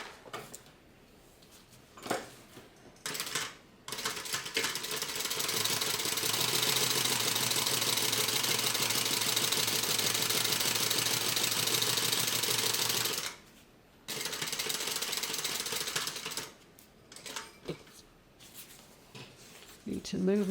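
A sewing machine runs a long steady stitching seam on a tote bag, loud and close, with short bursts before and after and brief pauses between runs.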